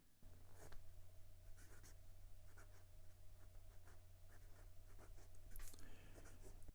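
A Ranga Abhimanyu fountain pen in Chestnut scratches across Clairefontaine 90 GSM paper in short, faint, irregular strokes, heard close over a steady low hum.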